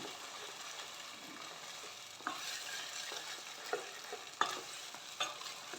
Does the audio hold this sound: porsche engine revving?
no